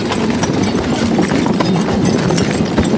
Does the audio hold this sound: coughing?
no